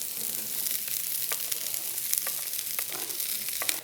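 Onions and bell peppers frying in a little beef tallow in a cast iron pan, a steady close sizzle with occasional sharper crackles and pops, no voices.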